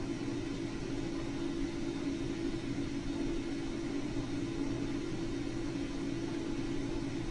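Steady low rumble and whir from the self-driving vehicle Alvin as it drives, a constant engine-like drone with broadband noise and no distinct events, moderately loud throughout.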